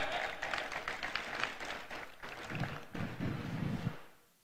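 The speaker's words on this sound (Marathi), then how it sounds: "त्या उन्हात बसलेल्या लोकांसाठी टाळ्या वाजवा" Outdoor crowd at an electric bus launch ceremony clapping for people seated in the sun, a few seconds of moderately distant, scattered applause that fades out at the end.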